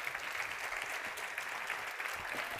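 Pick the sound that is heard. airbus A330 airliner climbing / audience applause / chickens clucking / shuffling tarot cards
audience applause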